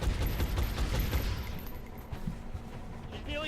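Rifle fire in a video game, a quick string of close, sharp shots in rapid succession that thins out into a softer mechanical clatter.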